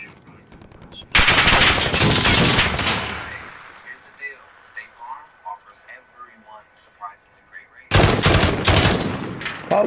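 Gunfire in Call of Duty Warzone: two loud, dense bursts of automatic fire, close by, with a quieter stretch of scattered sounds and talk between them.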